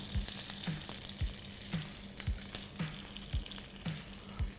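Butter and cream sizzle and crackle steadily as they melt in a hot pan, with a regular series of soft low thumps like stirring, close and fairly quiet.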